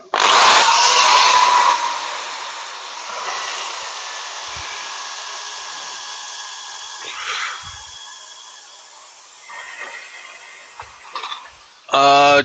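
A power sander works on a surface indoors: a loud, harsh whirring burst at the start, then a quieter, uneven whine that rises and falls, and a sharp, buzzy surge at the very end.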